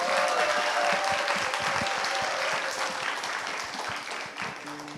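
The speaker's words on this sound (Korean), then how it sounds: "큰 박수 보내주시기 바랍니다." An audience at a talk event gives warm, continuous applause, a dense wash of many hands clapping that holds steady and slowly tapers, with no talk over it.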